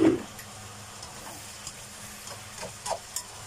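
Yam noodles and vegetables being stir-fried in a pan, a soft steady sizzle with occasional scraping and clinking of the utensil, fairly quiet and close, with no talking.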